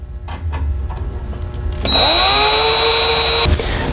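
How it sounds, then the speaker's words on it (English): A power drill bores a mounting hole for a heat control bracket on a 2015-2021 Honda Pioneer, a steady loud whine for about a second and a half after some quiet handling clicks, then stopping abruptly. "Let's drill the second hole for the second mounting position."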